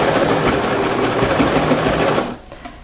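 A serger stitches a French terry sweater with a fast, steady, loud mechanical whir that cuts off abruptly near the end; no talking.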